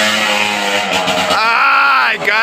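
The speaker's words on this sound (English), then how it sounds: "Jarvis has just pulled a wheelie" A motorcycle engine on an enduro ride in Lai Chau revs up sharply as the rider pulls a wheelie, its pitch climbing and holding loud and close, with voices talking over it.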